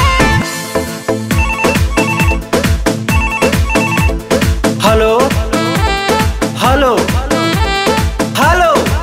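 A telephone rings with a loud, melodic ringtone, a rhythmic musical tune with a steady beat that plays continuously for about nine seconds.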